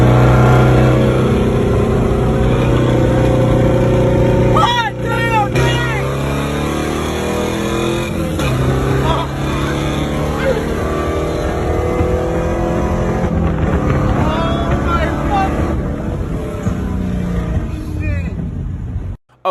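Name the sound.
C4 Corvette and Mark III Supra race cars racing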